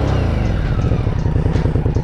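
A 2023 Indian Scout Rogue motorcycle idles on its stock exhaust nearby, a loud, low, throbbing rumble with a steady pulsing beat.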